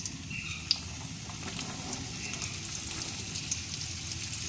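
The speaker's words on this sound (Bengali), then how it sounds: "গাজরটা ভেজে নিচ্ছি" Carrots frying in a pan for vegetable fried rice, giving a steady close sizzle with light crackles throughout and no talking.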